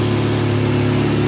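A Polaris Sportsman 700 ATV engine idles steadily and loudly close by, holding a constant low, throbbing hum with no change in pitch.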